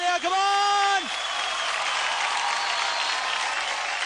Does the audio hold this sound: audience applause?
yes